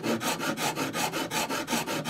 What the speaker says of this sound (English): To refine the edges, I used a Japanese saw rasp.